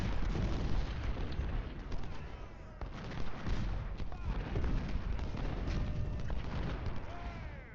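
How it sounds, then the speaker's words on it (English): Artillery barrages rumble through a Civil War battle in Ultimate General: Civil War, a dense wash of booms and thuds rolling continuously, with overlapping blasts throughout and loud, close impacts. "the artillery is firing on my cavalry"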